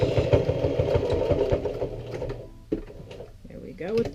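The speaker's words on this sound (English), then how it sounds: "Forward stitch, back stitch, forward stitch, and back stitch." A sewing machine stitches a jeans fly zipper in a fast, steady, close mechanical chatter that runs in bursts, alternating forward and back stitching, with brief pauses and a voice talking over it.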